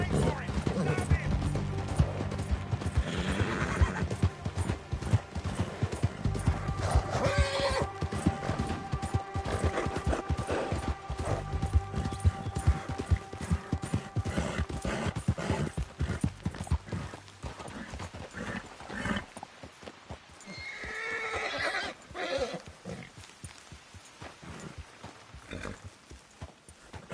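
A horse in a video game gallops with rapid, rhythmic clip-clop hoofbeats and a brief whinny, mixed with game sounds; someone talks over it.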